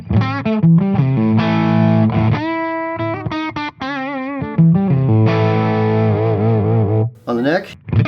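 An Ibanez RG350 MDX electric guitar with custom pickups played through overdrive pedals, a run of distorted riffs and sustained bending notes with chorus-like wobble, loud and close, ending in a short scrape.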